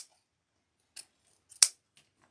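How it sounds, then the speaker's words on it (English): Scissors trim ribbon tails on a spring rainboot wreath, giving a few soft snips and then one sharp, crisp cut, close by in otherwise quiet surroundings. "let's go ahead and trim these tails right above the sign"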